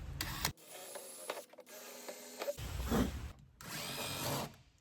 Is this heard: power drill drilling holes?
yes